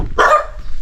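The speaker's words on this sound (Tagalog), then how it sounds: "Sinalubong agad tayo ng aso." A single sharp, close dog bark rings out once, loud and brief, over quiet background.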